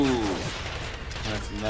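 Gunfire in the World War II shooter Medal of Honor: Pacific Assault, dense overlapping battlefield shots under tonal in-game sounds, continuous and fairly loud across a short stretch.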